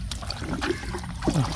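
Water sloshes and trickles nearby in brief splashy bursts as it is scooped with a cloth while catching fish, with a few faint gurgles over a low steady background.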